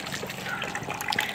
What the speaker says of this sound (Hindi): यहाँ पे कपड़े धुलाई हो रही है हमारी बरामदे में